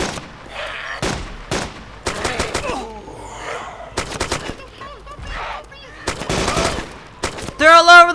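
Gunfire in the DayZ Namalsk mod for Arma 2 comes as sharp bursts and single shots, loud and close, mixed with excited shouting and gasps between volleys.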